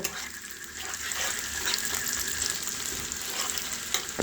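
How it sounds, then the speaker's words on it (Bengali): Chopped ginger, garlic and tomato fry in a pan with onion, giving a steady close sizzle with occasional stirring scrapes and no talk. "এবারে দিয়ে দেবো আদা কুচি, এবারে দিয়ে দেবো রসুন কুচি, এবার দিয়ে দেবো টমেটোর। ভালো করে এগুলো ভেজে নেব।"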